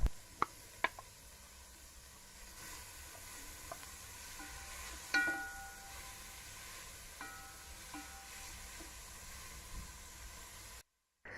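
Shredded carrots stirred in a pot for turmeric carrot rice, a faint steady sizzle with soft scraping stirs and a few light knocks against the pot.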